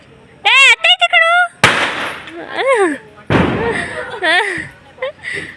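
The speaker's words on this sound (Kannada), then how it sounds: "ನೋಡಿ ಇಬ್ರು ಎಂಥ ಪಟಾಕಿ" Diwali firecrackers burst at a home celebration: two sharp, loud bangs, each with a short crackling tail, go off between excited voices talking and calling out.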